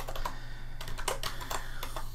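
Quick keystrokes clatter on a computer keyboard, a steady run of light clicks close by over a faint electrical hum.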